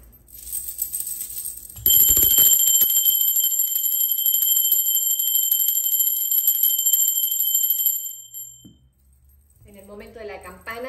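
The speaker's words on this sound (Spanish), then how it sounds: "El sonido de la campana es una energía de alta frecuencia que lo que hace es conectar contigo, neutralizar las energías" A bell struck during a tarot reading rings out bright and clear, its shimmering tone sustaining for several seconds before fading, followed by a voice speaking.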